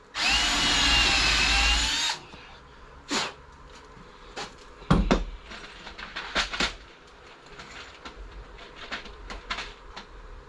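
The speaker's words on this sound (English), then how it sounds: "I'm going to put one chamfered hole in one side" A power drill bores a chamfered hole into a wooden table saw crosscut sled in one loud, steady two-second run, followed by faint scattered knocks and handling sounds.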